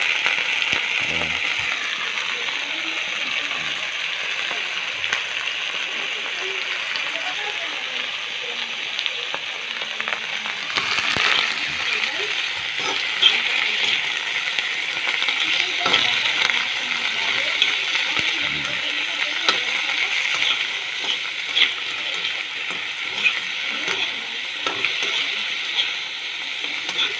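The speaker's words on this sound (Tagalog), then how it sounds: "Igisa na natin itong takla natin lutuin para sa pagkat ng gagawin natin." Mud lobster (takla) sautés in a pan with a continuous broad frying hiss and occasional stirring scrapes, close and moderately loud, with faint speech at times underneath.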